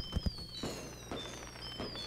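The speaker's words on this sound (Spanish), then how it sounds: "fusible, prende los fuegos artificiales" Fireworks launching in a video game: two sharp close pops open, followed by softer bursts and crackles over a steady background hum, with occasional whistling tones.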